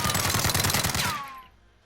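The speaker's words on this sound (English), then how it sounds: "And here we have the Uzi, Israeli made machine that is just amazing" An Israeli-made Uzi submachine gun fires a loud, rapid automatic burst of closely spaced shots lasting just over a second, then stops and leaves a brief fading echo.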